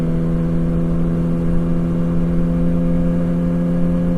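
A Yamaha R1 sport motorcycle being ridden on an Idaho canyon road gives a steady, loud engine drone that holds an even pitch at a constant throttle, with a smooth whir and no talk.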